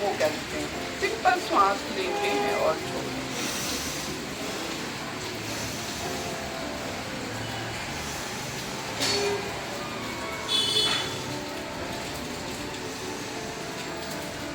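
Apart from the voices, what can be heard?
rain in the background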